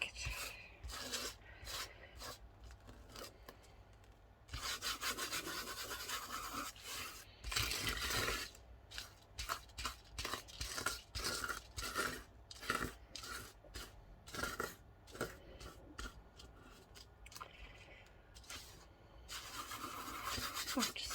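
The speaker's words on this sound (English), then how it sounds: "I'm going to rub off the salt" Dried table salt is rubbed off a watercolour painting by hand, making a quiet, close scratchy rubbing in irregular strokes and bursts, with brief pauses between them.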